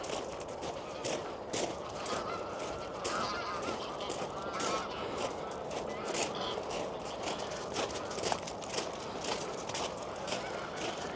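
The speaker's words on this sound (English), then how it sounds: "You can see how the geese and the swans are loving it." Many geese honk repeatedly in a noisy chorus on a flooded park boating lake after a storm, steady and fairly distant, with overlapping calls continuing throughout.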